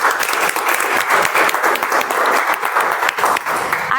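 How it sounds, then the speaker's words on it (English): A club meeting audience claps for a speaker in a dense, steady round of applause that holds at full strength for the whole stretch, with many hands close together. "So give him a big round of applause."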